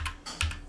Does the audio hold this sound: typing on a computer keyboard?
yes